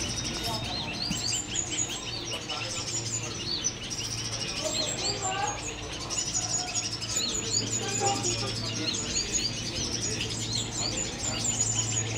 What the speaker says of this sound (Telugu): మీకు ఆ బర్డ్ సౌండ్స్ నచ్చాయా?